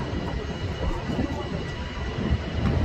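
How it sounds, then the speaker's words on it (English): A New York City subway train rumbles into the station with a dense, low, continuous roar that holds steady and close throughout. No one speaks. "sounds like the train's coming in 3 minutes"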